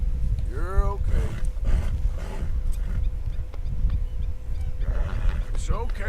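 Horse neighing in the video game Red Dead Redemption 2, two whinnies, one near the start and one near the end, over a constant rumbling game ambience, with someone talking at times.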